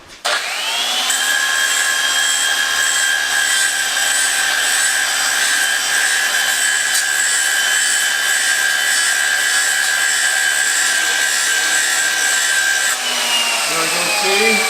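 A lathe turns down a weld on a part from a 1929 Dodge, a loud, steady high-pitched whine that spins up at the start, holds constant, then winds down with a falling tone at the end.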